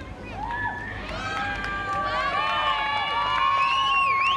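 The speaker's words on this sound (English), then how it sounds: "they cannot do backflips until the crowd's making a lot of noise" Crowd at an outback festival BMX stunt show in Meekatharra cheering and shouting loudly and steadily, many voices including children's whoops and yells, building and sustained throughout.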